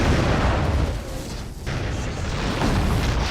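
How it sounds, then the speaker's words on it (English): A cinematic lava-bomb explosion slams into an RV, a loud, dense rumbling blast that fills the whole clip, briefly dipping in the middle before surging back. "added this lava bomb that actually hits the RV"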